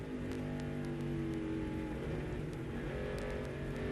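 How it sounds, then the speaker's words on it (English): A NASCAR race car engine drones at a fairly steady pitch with small throttle blips and dips, heard from a distance as a continuous muffled roar on a road course in Mexico City, with no talking. "Playing with the throttle, you can hear him."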